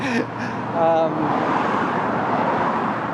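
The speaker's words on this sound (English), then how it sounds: "got a bus going by" A bus passes on a busy road, a broad whooshing rumble of traffic swelling and holding steady, with someone talking briefly at the start.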